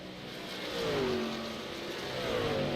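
Racing truck engine from an iRacing truck series race at Dover, a steady mid-pitched drone that swells slightly as it revs, continuous with no talk.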